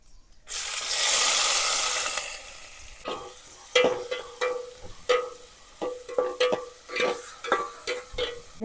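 Cumin, onion, tomato and chillies hit hot oil with a loud burst of sizzling that settles into steady frying, followed by repeated scraping and clinking of a spoon stirring in the pan for a corn curry.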